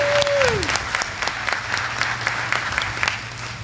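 Dinner guests at a service awards ceremony keep up a sustained round of applause for a 35-year honoree, even continuous clapping over a low hum, with a short falling tone at the start.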